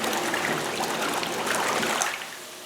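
Water in a Kohler whirlpool tub sloshes and hisses broadly right after the jets are switched off, then quickly calms and fades toward quiet near the end.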